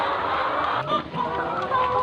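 Hens on a small poultry farm of about 500 chickens, a dense, continuous chorus of clucking and chattering from many birds at once, close and fairly loud.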